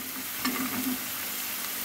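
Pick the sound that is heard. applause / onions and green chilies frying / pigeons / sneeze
onions and green chilies frying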